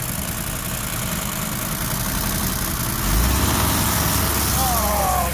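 A 1973 Ford Mustang engine idles steadily with a low, even rumble. Partway through, the rumble deepens and grows slightly louder, and speech can be heard over it.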